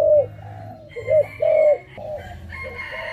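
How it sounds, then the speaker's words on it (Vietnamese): Caged decoy dove gives a series of deep rolling coos, several clear calls in a loose rhythm, close and loud, with softer cooing from other birds behind. "Yêu cầu nó mở miệng ra là sẽ có một nước gù"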